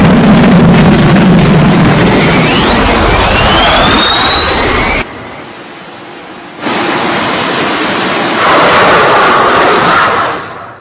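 A Sukhoi Su-57 fighter jet roars loudly with a rising whine, cuts off abruptly, then returns as a powerful, continuous blast that fades out at the end.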